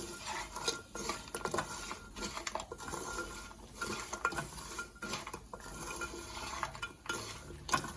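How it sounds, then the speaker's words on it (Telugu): Chicken pieces hand-mixed with chili powder, salt and masala in a bowl for pachadi, with continuous close squelching and scraping plus faint clinks and no talk. "వేసుకున్న తర్వాత ఈ కారం, ఉప్పు, మసాలా పౌడర్ మొత్తం చికెన్ ముక్కలకి ఇట్లా కలుపుకోవాలి."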